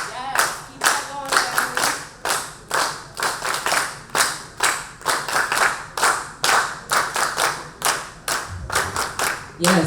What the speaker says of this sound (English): I am going to ask for us to just follow along and clap along